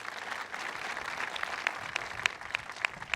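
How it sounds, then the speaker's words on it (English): Applause for Buffalo Mayor Byron Brown at a job training center event with the governor present, a fairly faint, steady patter of clapping from a crowd, with a few sharper individual claps near the end. "How about another round of applause for the great mayor of the city of Buffalo?"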